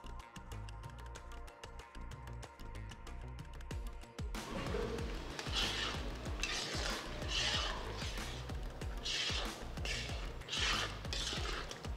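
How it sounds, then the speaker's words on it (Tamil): A spoon scrapes and clinks in a pot as roasted semolina is stirred in for rava kichadi, quiet rhythmic stirring strokes close by, growing busier after the first few seconds. "இது பார்த்தீங்கன்னா அப்படியே போட போட கிண்டிக்கிட்டே வந்துடணும்"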